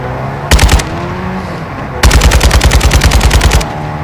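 Call of Duty: Modern Warfare II gunfire: a short loud automatic burst, a pause, then a longer rapid burst of about fifteen evenly spaced shots, close and dominant.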